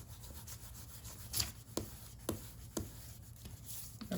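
An eraser rubs out pencil lines on paper during a children's drawing of a peacock, giving faint, soft scratchy strokes with a few sharper brushes standing out, close and quiet with no talking.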